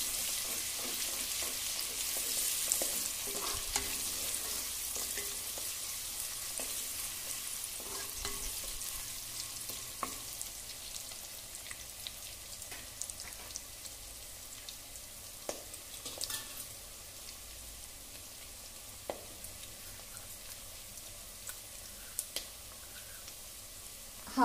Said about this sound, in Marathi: कांदा तेलात थोडा परतते